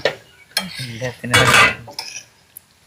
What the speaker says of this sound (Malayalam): അങ്ങനെ മിക്സ് ആക്കാം.